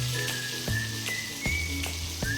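Sardines sizzle steadily in hot oil in a pan, a continuous close frying hiss with faint crackles and a few soft thumps as the fish are turned, no talk.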